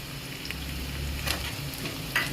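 Green chillies and a small piece of ginger sauté in hot oil in a pan for paneer bhurji, giving a steady, moderate sizzle with a couple of light stirring clicks and no voices.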